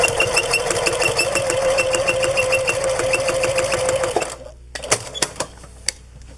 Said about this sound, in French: je vais venir piquer mon capuchon pour pas qu'il bouge